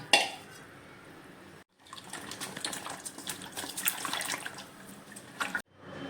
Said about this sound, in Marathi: आपण ती आता धुवून घेऊया पाणी टाकून